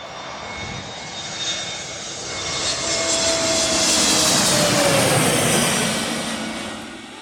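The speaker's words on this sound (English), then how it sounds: "Well, I think I just heard the sound of a plane that's about to land." Jet2 Boeing 777 airliner coming in to land, a rising and swelling jet engine roar with a whining tone that peaks overhead and then slowly fades, heard outdoors with no talk.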